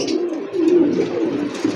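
Racing pigeons coo close by at a pigeon sale, low throaty warbling calls overlapping continuously, fairly loud, with no one speaking.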